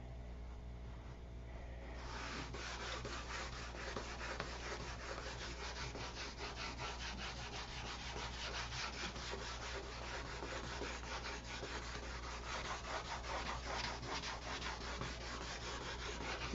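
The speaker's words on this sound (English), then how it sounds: "You don't think 1000 grit sandpaper is very aggressive, but it certainly is." Wood is sanded by hand with 1000 grit sandpaper, a close, steady scratchy rubbing that starts after a brief quieter moment and continues in rapid back-and-forth strokes.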